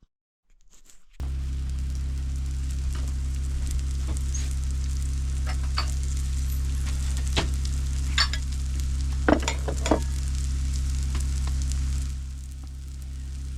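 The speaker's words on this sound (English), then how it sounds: "scrambled eggs, spam, and cheese with homemade ranch seasoning on top of it" Scrambled eggs with spam and cheese fry in a pan in an Alaskan bush kitchen, a steady close sizzle with occasional sharp spatula scrapes and taps, no voices.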